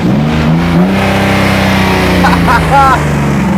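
A BMW E36 inline-six engine revs loudly through its exhaust pipe, a sustained deep drone with rising and falling pitch, close and continuous, with a brief voice over it.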